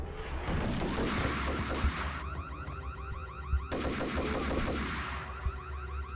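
Gunfire from pump-action shotguns in the video game Max Payne, a loud, dense barrage of overlapping shots and booms running almost continuously, with a few brief lulls.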